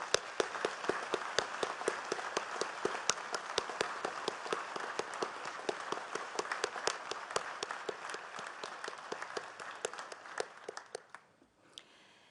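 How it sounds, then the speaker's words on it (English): Audience applause at a veterans' ceremony at Arlington National Cemetery, a steady dense burst of clapping from a large crowd that holds for about eleven seconds, then fades quickly to quiet. "please join me in recognizing our veterans' national leadership with your applause"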